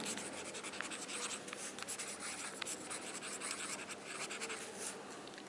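Chalk scraping and tapping across a board as a letter is written during a laser diffraction grating lesson, a close run of brisk scratchy strokes with no speech heard.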